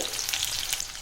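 Small onions with poppy seeds and spices roasting in a pan for a black chickpea masala gravy, giving a steady bright sizzle with soft stirring, close up and continuous.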